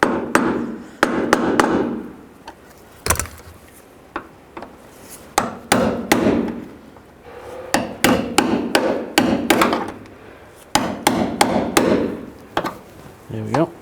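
A hammer strikes a punch or chisel to knock a washer off a door hinge pin on a 2002-06 Chevy Avalanche, sharp metallic hits arriving in uneven bursts of several quick blows with short pauses between.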